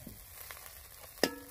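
Radish frying in a pan gives a soft, low sizzle throughout, broken by a sharp metallic clink near the end, with no talking.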